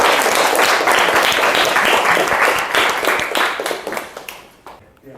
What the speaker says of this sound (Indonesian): Kasih tepuk tangan dulu teman-teman.